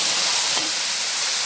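Fenugreek seeds sizzle in hot oil as a tempering for a gram-flour (besan) curry, giving a steady close hiss and crackle with no talking.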